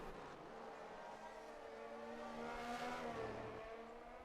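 A Ferrari race car engine roars in a racing game at the Texas round, a steady faint drone with a swelling pass midway, no voices over it.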